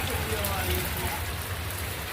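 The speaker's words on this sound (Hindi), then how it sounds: "जब गर्मी में इस तरह की बारिश होती है नहाने वाली" A heavy summer downpour hisses steadily on surfaces, a dense and even wash of rain close by with a faint low rumble beneath it.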